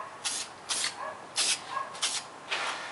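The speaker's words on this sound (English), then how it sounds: "You can see how he's spraying the top." Aerosol spray paint hissing onto the top of a handmade Halloween table centerpiece outdoors in a front yard, six short bursts spaced roughly half a second apart, close and fairly loud.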